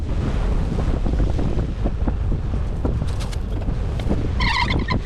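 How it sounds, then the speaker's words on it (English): Strong wind in central Oklahoma roars steadily and loudly across the microphone, buffeting in continuous gusts with no break. "We've had some pretty crazy winds today here in central Oklahoma"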